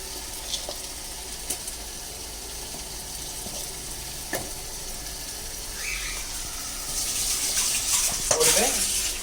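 A utensil scrapes and stirs mutton in a cooking pot, with soft clinks and a low simmering sizzle that grows louder and busier near the end.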